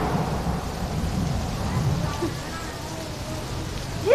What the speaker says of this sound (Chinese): 像这个样子的雨天